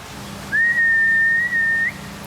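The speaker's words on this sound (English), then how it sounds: "Whistle." A zookeeper whistles to a lion at a zoo: one loud, clear, steady high whistle held for about a second and a half, rising slightly at the end, with no talk.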